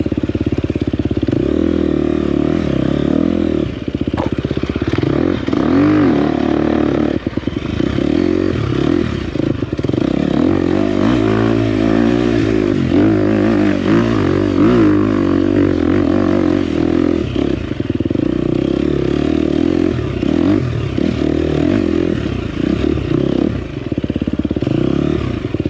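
A 2024 KTM 250XCF dirt bike ridden along a trail, its engine droning loud and close throughout with constant throttle changes, revving and rising and falling pitch, plus clattering from the rough ground.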